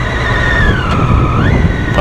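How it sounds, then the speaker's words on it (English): Triumph Daytona 675R triple-cylinder motorcycle engine holding a steady, loud drone with a rising pitch toward the end, heard close and continuous on a ride. "I've always been a fan of triple engines, and this engine just sounds phenomenal"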